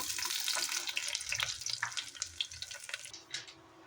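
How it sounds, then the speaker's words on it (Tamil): Onions sizzle in hot oil with fenugreek seeds, a bright, crackling spatter up close that is busiest at first and then thins to scattered pops. "வெந்தயம் நல்லா பொரிஞ்சதுக்கப்புறம் வெங்காயம் சேர்த்துக்கலாம்"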